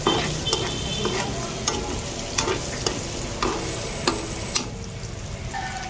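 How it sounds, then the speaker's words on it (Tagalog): Onion stirred and fried with pork in a pan, a sizzling hiss broken by regular sharp scrapes and clacks of the spatula. "lagay natin yung onion. Buyas, Bombay. Lagay."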